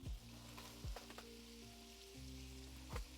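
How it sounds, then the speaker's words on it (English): Food sizzles and crackles while frying in a hot pan for a lasagna bolognese dish. The steady close hiss is broken by a few louder pops and bursts, with no talking. "you hear those happy sizzles? That's what we want."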